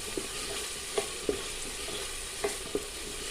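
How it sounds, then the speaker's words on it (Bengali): Bengali chicken curry spice paste stir-fried in a pan, a steady close sizzle broken by a few sharp spatula scrapes and knocks at irregular intervals, no voices. "এখন আমি আবার মশলাটাকে একটু ভালো করে কষিয়ে নেব।"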